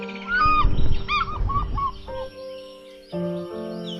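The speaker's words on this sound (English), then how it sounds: "I could hear this call of an African fish eagle flying in" An African fish eagle calls with a few ringing, yelping notes at moderate distance, heard alone at a waterhole in the wild, followed by quieter sustained tonal sounds.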